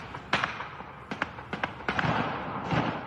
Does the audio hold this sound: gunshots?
yes